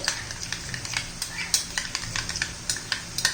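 A spoon stirs sour curd into garlic chutney in a bowl or pan, giving steady, close scraping and light clicking strokes at an even pace, with no voices.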